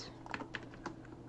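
A few quick, light clicks of typing on a computer keyboard during a Minecraft BedWars session, faint and close, spaced irregularly over a low background hum.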